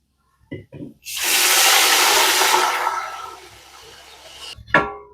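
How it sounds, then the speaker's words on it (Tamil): After a couple of short knocks, water pours from a vessel into a cooking pot in a steady splashing rush for a few seconds, then trickles off and ends with a clunk. "ரெண்டாவது செம்பு ஊற்றுறோம் மூணாவது செம்பு ஊற்றுறோம்"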